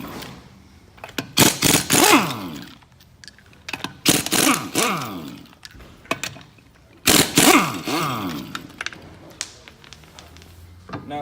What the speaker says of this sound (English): we're going to use an impact gun, and we're going to take the lugs